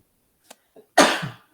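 A single loud, breathy sneeze bursts out after a couple of faint little sounds, close and sudden, then fades quickly.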